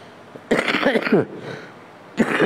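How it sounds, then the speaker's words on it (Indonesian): Two harsh coughs close to the microphone, the first a longer rattling fit, the second a short burst after a pause. "Aku batuk."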